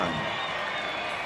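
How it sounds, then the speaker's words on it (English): Crowd at a preseason soccer game in the Suncoast Invitational gives a brief round of applause, a dense patter of clapping heard at a distance from the stands. "Gets a nice round of applause."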